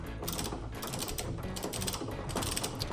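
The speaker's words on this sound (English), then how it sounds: "So I'm bolting those two bolts down, and that's supposed to be torqued to 37. So I'm torquing those down now." A torque wrench tightening the two engine mount bolts on a 2006–2011 Honda Civic, giving a steady, rapid ratcheting clatter that keeps going for the full few seconds, loud and close with no pauses.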